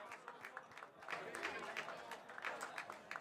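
Applause breaks out from an audience on an election talk show, a soft, somewhat distant patter of clapping that rises partway through, with voices faintly mixed in.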